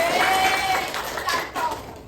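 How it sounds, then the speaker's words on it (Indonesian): Applause for a guest at a school campaign event on reducing plastic waste, a dense crowd of hands clapping steadily throughout with voices mixed into the noise. "Boleh tepuk tangan untuk Pak Ujang."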